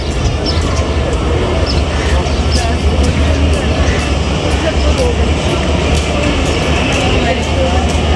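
The 8Dn Tezgam Express runs fast between Rawalpindi and Lahore, a loud, steady rolling rumble with rhythmic rattling of the carriage over the track throughout.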